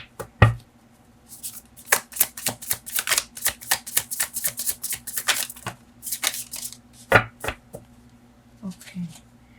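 Tarot cards are shuffled and drawn in a rapid run of crisp riffling flicks and slaps, then a few slower taps near the end as single cards are pulled, close and loud.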